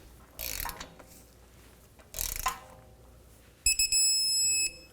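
A torque wrench's electronic beep signals 37 foot-pounds on a control arm bolt of a 2005-2010 Pontiac G6, a steady tone lasting about a second after ratcheting clicks, close and loud with no talk.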